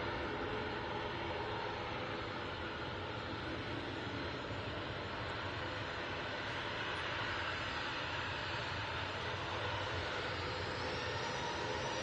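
KLM Embraer E2 jet touching down at Manchester Airport, a steady distant roar of engines and rushing air, fairly faint and unbroken with no voices.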